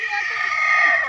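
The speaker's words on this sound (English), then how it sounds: "the rooster, did you hear him just scream at the top of his lungs?" A rooster lets out a loud, close, strained crow that carries for about a second in one continuous call.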